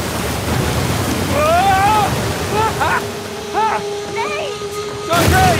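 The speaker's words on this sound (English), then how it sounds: "waterfall! Waterfall!" Rushing waterfall in an Uncharted 4 jungle scene, a steady broadband roar of water running throughout beneath excited shouting voices and a tonal musical score.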